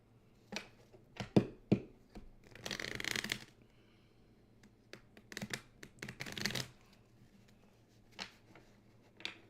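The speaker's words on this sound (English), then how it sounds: "Do some good shuffling here." Tarot cards are shuffled in a series of crisp riffles and flicks, with two longer bursts of bridging and several sharp taps, close and clear with no talking.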